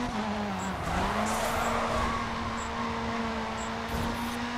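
A touring car in the GRID 2 racing game, engine drone holding a steady pitch throughout with a slight dip near the start, tire noise layered on top, loud and continuous with no talk.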